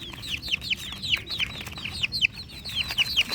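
A group of stag chickens, young roosters, cluck continuously at close range, with overlapping short chirpy calls in quick succession over faint rustling.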